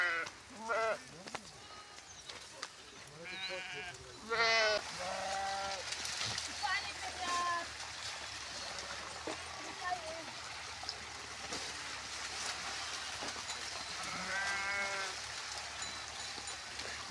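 A group of goats bleating repeatedly in an open field, wavering calls from near and farther away that overlap at times, with quieter stretches between them and a low outdoor background.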